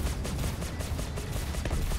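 Rapid bursts of gunfire in the Star Citizen alpha on PC, a dense fusillade of repeated shots crackling steadily throughout with a heavy low rumble and no talking.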